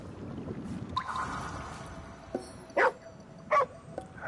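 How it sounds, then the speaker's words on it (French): Dog barking in the video game Ghostwire: Tokyo, a couple of short, loud yips standing out over a low ambient game background, with softer whimpering sounds earlier. "Le chien essaie de te parler?"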